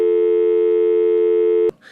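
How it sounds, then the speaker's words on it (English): Steady dial tone from a Grandstream GXP2100 IP phone, a continuous unbroken hum held loud and alone for most of the clip before cutting off abruptly. "You will hear a dial tone,"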